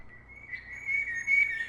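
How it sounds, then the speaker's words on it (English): A single bird chirps indoors inside a house, heard as a thin, steady whistled tone that swells slightly louder toward the end, close and alone with no talk. "we got the bird chirping inside of the house"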